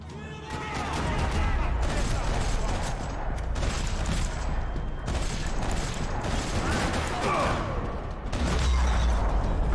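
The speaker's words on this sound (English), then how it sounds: "gunfire." Sustained gunfire from the video game Max Payne 3 crackles in dense, overlapping bursts for nearly ten seconds, loud and continuous with game effects layered in.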